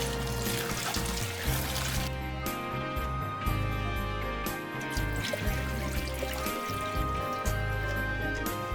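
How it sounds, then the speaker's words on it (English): Tap water runs and splashes steadily over fresh oregano being rinsed in a kitchen sink, a continuous close trickle throughout. "I'm adding fresh oregano. Just want to do a little rinsing on there."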